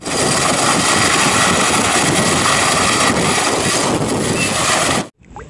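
A toy helicopter makes a loud, steady whirring drone, continuous and close, cutting off abruptly near the end.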